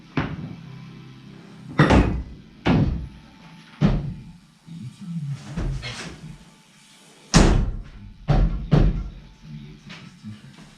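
The door of a Soviet pickup truck is opened and shut repeatedly, a series of loud, close thumps and slams with creaks and rattles between them.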